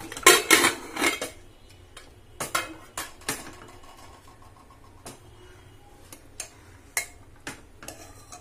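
A pressure cooker of boiled chickpeas is opened in a home kitchen after its whistling has stopped: a burst of sharp metallic clanks and clatters from the lid, then scattered lighter taps and clinks, close and uneven.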